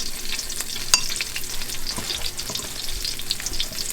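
Morels frying in a pan give a steady close crackling sizzle, with scattered pops and a sharp spatter near the start, and no talk over it.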